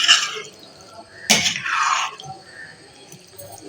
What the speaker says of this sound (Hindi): तो कीमा गलने के लिए मैं इसमें थोड़ा सा पानी भी ऐड कर देती हूँ, ये आधा गिलास